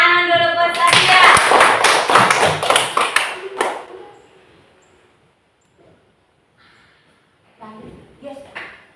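Children clap in a classroom for a classmate named Sabia, a lively burst of hand claps under chatter that lasts about four seconds, then fades to quiet before voices return near the end.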